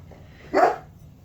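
A single short, sharp dog bark at moderate distance rings out indoors over low background hum, with quiet room tone before and after.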